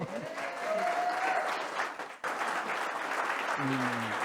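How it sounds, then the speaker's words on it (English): Audience applause for panelists at a luxury builder event in Greenwich, Connecticut fills the room as a steady, moderately loud wash that dips briefly midway, with faint voices heard through it. "Really, give them a round of applause."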